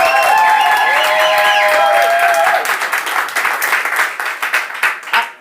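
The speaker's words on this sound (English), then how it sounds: "If you're against the motion," An audience at a climate debate votes against the motion with loud, dense clapping, whistles and whoops over it at first, then the applause thins into scattered claps and fades out.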